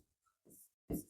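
A teacher writes on a classroom board, giving a few short, faint scratching strokes separated by brief silences, with one firmer stroke near the end.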